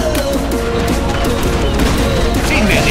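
Heavy, rapid gunfire and explosions from a Command & Conquer Generals Zero Hour 2v2 battle on an island map, a loud continuous fusillade with a short unit voice line mixed in.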